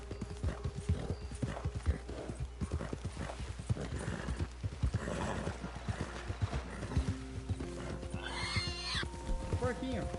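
Horse hooves clip-clopping at a steady gallop in Red Dead Redemption 2 online, with a whinny near the end, mixed with game sounds and someone talking over it.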